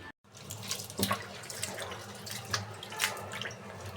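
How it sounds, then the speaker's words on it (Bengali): Bitter gourds washed under a running kitchen tap, a close, steady stream of splashing water with occasional sharper splashes and drips as the vegetables are handled, with no talk. "করলাগুলো ধুয়ে নিতেছি,"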